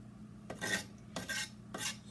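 A knife scrapes away the last stubborn piece of avocado skin in three quick, close, scratchy strokes with short pauses between them, in a quiet kitchen with no talking.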